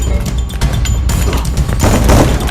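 Gunfire in a first-person shooter game, loud bursts of shots and impacts crowding the soundfield for a couple of seconds, dense and close, with a sudden swell near the end.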